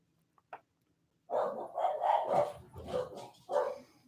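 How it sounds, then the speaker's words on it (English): Several dogs bark in a quiet indoor setting, first two faint short yips, then a run of loud, close, overlapping barks in irregular bursts. "Sorry if you hear dogs barking."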